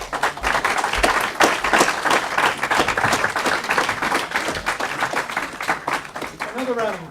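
Audience applause following a talk by an author about his book on Reagan, with close, distinct handclaps in a lively, uneven rhythm that keeps going throughout, and a voice entering faintly near the end.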